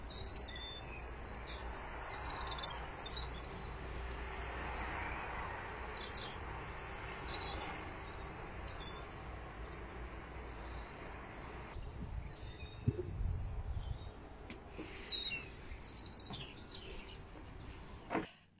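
Small birds chirp and twitter in short, scattered calls outdoors in spring over a steady low rumble of distant traffic or a passing train, with a few louder knocks near the end.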